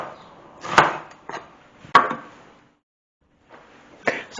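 Kitchen knife chopping onion into small diced cubes on a cutting board, made as a few separate sharp chops with pauses between them, close and fairly loud with no talking.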